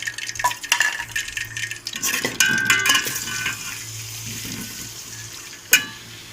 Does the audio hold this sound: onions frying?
yes